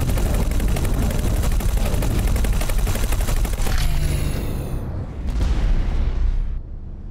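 Ship weapons in the space sim X4 Foundations fire in a loud, rapid barrage of booming shots, then cut out, followed by a brief final burst that fades away.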